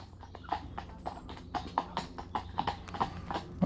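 A horse jogs on, hooves striking in a quick, even clip-clop rhythm at moderate distance, light regular beats over faint background noise.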